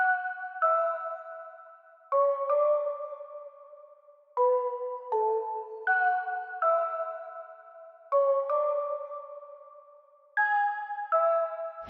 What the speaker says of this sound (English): The sound of that bell just fits the vibe that we're going for perfectly